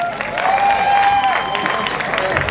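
An audience applauds for a backline coach at a team gathering, steady clapping and some cheering throughout, with a voice and a rising whistle-like tone over the crowd.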